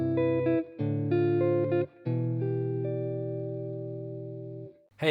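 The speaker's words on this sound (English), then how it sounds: "then I've got some really cool drop 2 chords that you don't often hear get talked about that sound like this." Jazz guitar drop 2 chord voicings, a few quick chord changes and then a long ringing chord left to decay, played clean and close with no talking.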